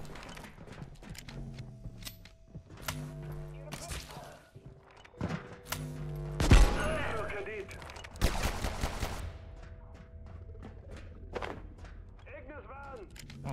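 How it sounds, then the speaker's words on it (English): Gunfight in the video game Abiotic Factor: several sharp gunshots and quick bursts go off amid clattering game sounds, with a loud close blast in the middle and scattered shots afterward. "I'm in a gunfight."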